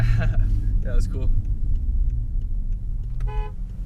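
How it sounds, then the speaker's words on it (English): A BMW 535xi Touring gives a short honk on its horn near the end, over a low rumble of the car driving along a canyon road, with people talking inside. "Give a little honk to the S2000 as he goes by"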